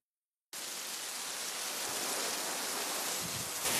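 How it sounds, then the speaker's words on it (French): Steady rain falls on Réunion Island near the Saint-Benoît fire station, a dense, even hiss starting abruptly and holding at constant strength with no voices. "la pluie vient de recommencer à tomber"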